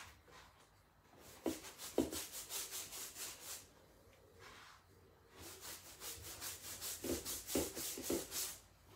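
Wax is rubbed by hand onto a chalk-painted marble-effect surface in bursts of rhythmic back-and-forth scrubbing strokes, close and soft, with a quiet pause in the middle.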